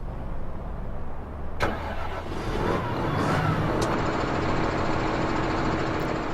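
A heavy JCB Fastrac tractor engine in Farming Simulator 15 rumbles steadily, with a sharp click partway through before the motor swells slightly louder and keeps droning.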